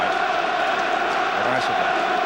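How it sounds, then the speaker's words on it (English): A football stadium crowd at a 1997 Champions League night between Newcastle and Barcelona keeps up a dense, constant roar, with a voice talking over it. "it's not for the want of support from their amazing crowd tonight"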